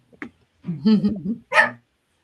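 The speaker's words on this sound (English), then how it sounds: "I was having a hard time hearing you because the dogs were making so much noise" A few short, sharp dog barks close by, three quick bursts with brief gaps between them and quiet background.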